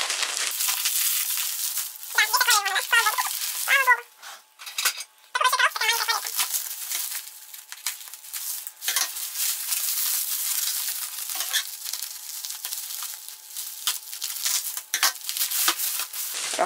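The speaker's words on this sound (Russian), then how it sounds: "По-моему, кстати, эта бумага называется крафтовая." Crinkly kraft wrapping paper being pulled from a large parcel box, with continuous rustling and crumpling close up and a few brief vocal sounds in between.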